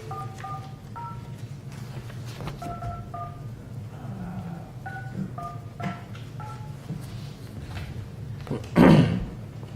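A phone's dialing keypad beeps out a string of two-tone presses in uneven bursts during a village council meeting, followed by a short thud near the end.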